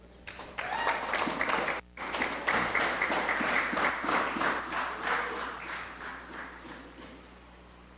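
An audience at a community meeting at Patience Hill Community Centre in Tobago applauds steadily. The clapping is moderately loud, stops for a split second early on, then continues and gradually thins out.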